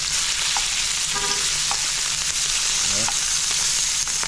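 Jerk-seasoned shrimp fry in a pan with a steady, loud sizzle, broken by a few scraping turns as they are flipped, with a brief spoken word at one point.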